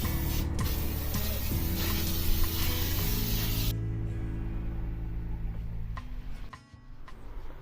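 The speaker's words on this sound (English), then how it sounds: "just spray everything down with degreaser" A steady, loud hiss of degreaser spraying in a narrowboat engine bilge fills the first few seconds, then cuts off, leaving a lower mechanical hum with faint clicks.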